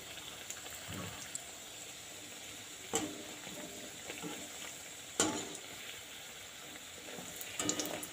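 Ripe mango and semolina batter frying in hot oil, a steady crackling sizzle with a few sharper pops and spatters rising through it, close and even throughout.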